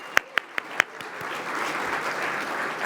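Audience at a benefit dinner applauding, a few sharp individual claps up front giving way to a swelling wash of steady clapping from a large crowd in a hall.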